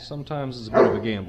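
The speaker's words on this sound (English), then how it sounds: "sorry for the dog barking in the background" A dog barks in the background of a home workshop where a curbed alloy wheel is being repaired and polished, its short yaps overlapping someone talking close to the microphone.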